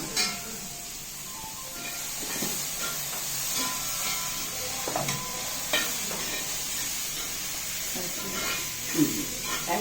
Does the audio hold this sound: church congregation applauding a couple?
no